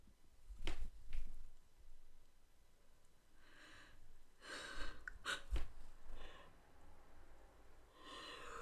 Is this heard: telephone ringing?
no